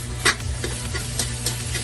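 Pre-boiled ground pork sautés with garlic and onion, giving a constant close sizzle broken by several scraping spatula strokes against the pan, with no talking.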